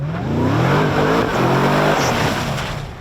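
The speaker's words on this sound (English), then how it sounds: "You hear that supercharger howl, the exhaust barks, it gets up and boogies." A 2018 Harrop Superado supercharged V8 ute accelerates hard, its supercharger howl rising over a loud, barking exhaust in one sustained surge that eases off at the end.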